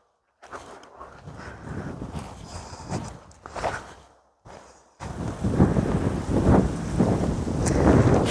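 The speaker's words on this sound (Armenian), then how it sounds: "Քամին էլ սկսեց" Gusty wind buffeting the microphone in uneven surges, rising stronger toward the end, with no voices.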